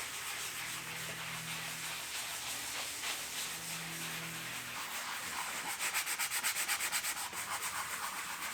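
Worn, cracked leather car seat being lightly hand sanded, a soft steady scratchy rubbing that grows into quicker, slightly louder strokes toward the end, faint and close with no voices.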